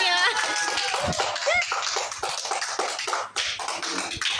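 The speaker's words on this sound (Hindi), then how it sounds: "तालियां तालियां।" Family clapping hands at a home anniversary celebration, a quick run of sharp close claps with a high excited voice calling out over the start, then steady rhythmic clapping continuing.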